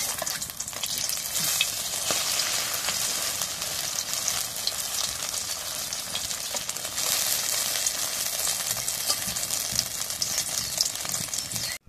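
An egg sizzles steadily in hot oil in a pan while being flipped, a bright continuous frying hiss that stays loud and close throughout, with no voices.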